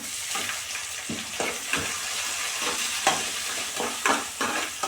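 Green chillies frying lightly in a pan for mushroom paneer curry, a steady soft sizzle with regular scraping stirs about once a second, close and without talking.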